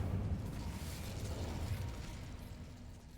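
The Incendio fire spell being cast in the video game Hogwarts Legacy: a sustained whooshing, rumbling burst of flame, heaviest at the start and slowly fading, with no talk.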